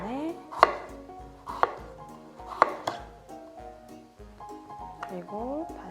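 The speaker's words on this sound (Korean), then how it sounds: "그리고 다시 또 옆면을 썰어줍니다" A knife chops a vegetable into thin square slices on a cutting board, with three loud sharp chops spaced about a second apart and softer taps after them, while a voice talks under and between the cuts.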